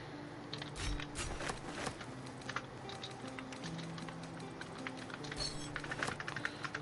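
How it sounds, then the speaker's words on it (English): Someone taps at a computer keyboard in quick, uneven bursts of soft clicks over a faint background hum, with short pauses between flurries of keystrokes. "Are you typing something?"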